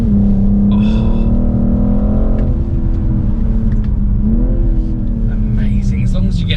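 A BMW M440i on a track lap revs loudly with rising and falling engine pitch through gear changes, close and prominent, while someone talks over it.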